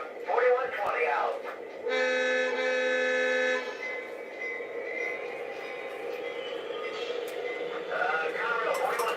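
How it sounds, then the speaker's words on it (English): A Conrail freight train horn sounds a long steady multi-tone blast alone for about two seconds, followed by a continuous rumble of the train rolling out, with voices talking faintly at the start and end. "Train is rolling."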